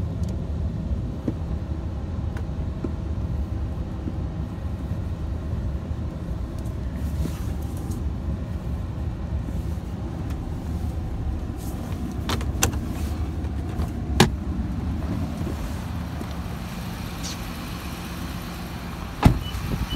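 A car engine runs steadily at close range for the whole stretch, a low continuous rumble with a few light clicks and taps over it.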